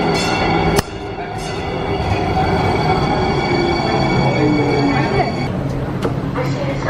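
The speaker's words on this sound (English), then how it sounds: "The train is here." A train pulling into a station at the airport in San Francisco, a steady loud rumble of rail noise with a sharp clank near the start and faint metallic squeals, people's voices mixed in.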